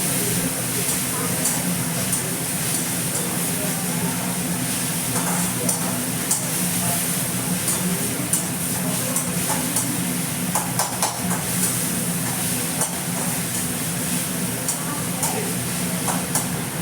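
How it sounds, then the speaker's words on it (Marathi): Onions frying in oil in a pan while being stirred, a continuous bright sizzle with intermittent scraping and clatter, under a voice talking throughout. "त्याला चांगलं परतून घेऊ आपण तेलात"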